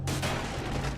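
A grenade launcher fires in the game Captain America: Super Soldier. The sound is a single dense, loud blast with a broad rumbling body that holds for about a second.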